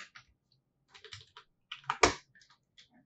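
Keys tapping on a computer keyboard in a few scattered bursts, ending in one firmer, louder press of the Enter key; quiet and close, with no talk.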